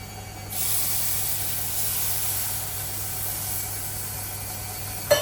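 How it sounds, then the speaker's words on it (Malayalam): Hot water poured into a pan of sautéed kudampuli mixture gives a sudden loud hiss and sizzle that holds steady for several seconds, ending with a brief clatter. "അതും കൂടെ ചേർത്ത് ഒന്ന് വഴറ്റിയിട്ട് ഇതിലേക്ക് നല്ല ചൂട് വെള്ളമാണ് നമ്മളിനി ഒഴിച്ചു കൊടുക്കാൻ പോകുന്നത്"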